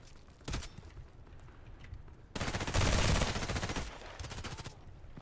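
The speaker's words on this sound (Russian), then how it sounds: "Блин, он первый начал стрелять с вихрем." A Vikhr automatic rifle in the online shooter Contract Wars fires in a short burst, then a long sustained rapid volley, with a final burst, loud and close against quiet background.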